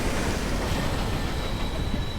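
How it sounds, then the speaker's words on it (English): A locomotive train from the video game Sunless Skies gives off a continuous low rumbling drone with a faint high whine, steady and unbroken and fairly loud, with no talking. "Oh, it looks like another train up there."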